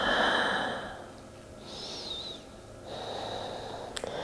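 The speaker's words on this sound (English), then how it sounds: "And breathe." Slow, deep breathing during a yoga twist, with an audible inhale and exhale close up, a quiet pause between, and a faint whistle-like tone in the middle.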